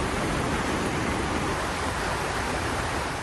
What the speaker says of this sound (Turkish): Hem şiddetli bir rüzgar var hem de sağanak yağış.